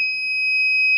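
Auto-retract mirror module buzzer in a Nissan New Livina sounding as a steady, continuous high-pitched electronic tone, loud and close, with no talk over it.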